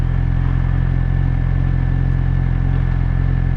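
A Suzuki GSXR 600 motorcycle idles steadily at a stop, its engine a close, even rumble with a faint clatter as it is put into first gear.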